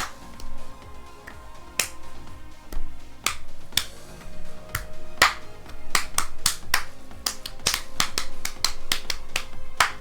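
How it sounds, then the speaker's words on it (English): A single person claps their hands in sharp, separate claps at an irregular rhythm, close and fairly loud, with quiet music faintly underneath. "I'm just clapping my hands so you know I'm dancing"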